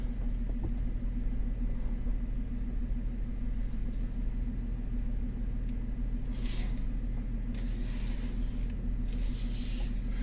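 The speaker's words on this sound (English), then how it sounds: "Drive forward slowly, making a sharp turn." A vehicle towing a trailer creeps forward slowly through a hard left turn, its engine a steady low rumble, joined near the end by brief hissing bursts.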